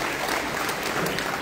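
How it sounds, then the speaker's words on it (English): An audience at a Buddhist ceremony clapping steadily, dense and even throughout, with no voices on top. "welcome Most Venerable Bhante Chao Chu with a warm round of applause."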